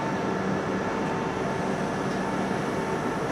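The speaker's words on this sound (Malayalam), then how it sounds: "അപ്പോൾ പോകുന്നത് കേരള സമ്പർക്രാന്തിയാണ്. Chandigarh Thiruvananthapuram north Kerala Sampark Kranti express." The Chandigarh–Thiruvananthapuram North Kerala Sampark Kranti Express pulls out of a station, a steady broad rumble of rolling stock, even and moderately loud throughout with no voices.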